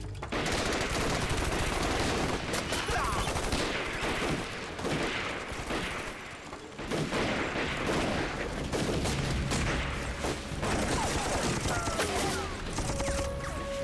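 Battle scene from a Vietnamese anti-Japanese war action film: sustained fusillade of rifle shots and rapid machine-gun bursts, loud and dense throughout with brief lulls and sharp individual cracks, shouted voices mixed in.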